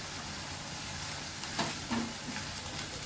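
Masala sizzles as it is stir-fried in a pan for a Mumbai curry, a steady hiss with a couple of scraping stirs near the middle.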